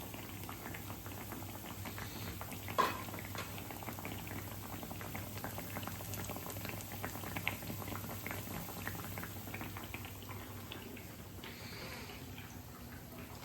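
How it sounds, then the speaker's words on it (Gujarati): Sabudana vada deep-frying in hot oil, a continuous close sizzle with dense crackling and popping bubbles, steady throughout with one sharp clink early on. "એ રીતે પલટાવીને જ આપણે એને ફ્રાય કરી લઈશું."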